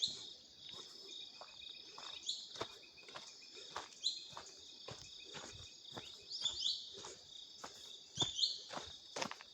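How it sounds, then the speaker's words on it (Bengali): Crickets and insects chirp steadily at midday in a very quiet village setting, a continuous high trill with faint bird calls and soft footsteps passing through, nobody talking. "ঝিঝি পোকার শব্দ।"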